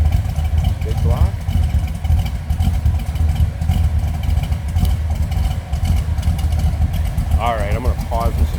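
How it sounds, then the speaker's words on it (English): A 1968 Chevrolet Chevelle SS big-block V8 idles with a deep, steady rumble that stays loud and continuous, and a voice cuts in briefly a couple of times. "A little low the idle out of that big block."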